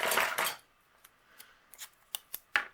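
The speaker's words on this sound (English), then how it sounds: "And I'm going to cut a border on this panel" Scissors cut a border along a paper card panel: a burst of close snipping and sliding strokes, then a sequence of sharp separate snips spaced out and growing louder toward the end.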